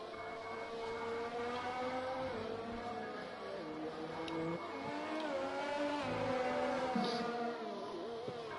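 Racing Point Formula 1 car in a racing video game, a high-pitched engine whine rising and falling through gear changes, loud and continuous through turns one and two.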